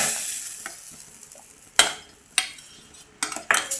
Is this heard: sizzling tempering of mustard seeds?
yes